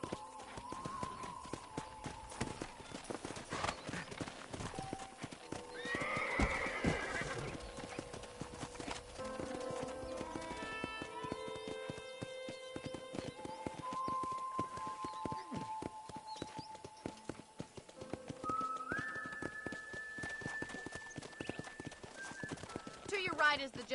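A horse ridden around a ranch clip-clops steadily at a brisk pace, its hooves close and rhythmic, with a whinny partway through, while voices talk over it and music plays along.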